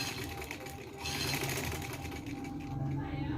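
A sewing machine runs steadily while stitching the neckline and lining of a dress, a close, continuous rattling hum with a voice talking faintly over it.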